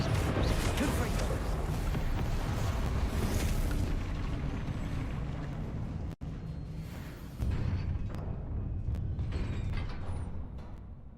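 A Confringo blasting spell from the Hogwarts Legacy video game: sustained roaring explosion, dense and loud, with a brief cut midway and a second rumbling blast continuing to the end, with voices mixed in.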